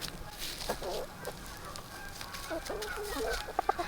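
Several chickens cluck and squawk close by in short bursts, with quieter background noise between the calls.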